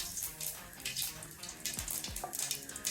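Chicken pieces fry in hot mustard oil, giving a close, steady sizzle and crackle with a few brief pops.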